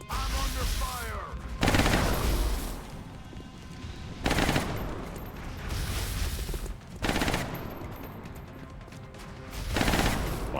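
Sustained gunfire from XCOM: Enemy Unknown, loud bursts of automatic fire and shots repeating across the whole stretch with brief lulls between heavy volleys.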